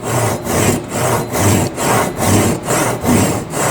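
Hand sawing wood with a 7-inch SUIZAN Japanese ryoba double-edge pull saw, working without a vise: steady rhythmic rasping strokes, about eight in under four seconds, close and loud with no talk.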